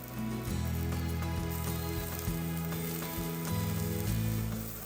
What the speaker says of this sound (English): Hot, stir frying it for a while until the edges are charring a little bit.